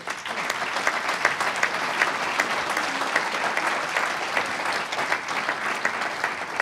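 A political party congress audience applauds steadily, a dense, sustained roar of many hands clapping at even loudness from start to finish, with no voices over it.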